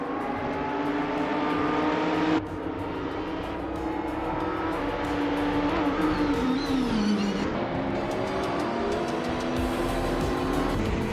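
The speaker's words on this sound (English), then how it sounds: "the track's tight corners seem to favor the BMW M8 GS, with the fastest lap from Silent Fox 213" Race cars, including BMW M8 GTE, Corvette and Ferrari entries, drone continuously around a tight-cornered track in a racing video game, with engine pitch rising and falling through shifts and braking, loud and steady with no talk.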